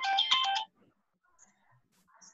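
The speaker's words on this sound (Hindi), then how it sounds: "सॉरी एक फोन आ गया।" A phone rings once in a short burst of tonal ringing during a theatre lecture, then the room falls nearly silent with faint small sounds.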